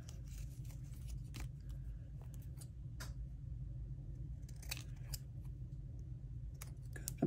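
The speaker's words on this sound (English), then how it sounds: "Just trim them up." Scissors snip paper pieces for a collage journal in short, crisp cuts scattered irregularly over a low steady hum, close by and with no talking.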